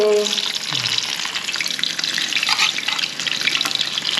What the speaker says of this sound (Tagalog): Tapos may mainit na po tayo dito na mantika sa kawali. Prito na po natin.